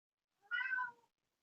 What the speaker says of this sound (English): In case you hear a cat, that's my cat.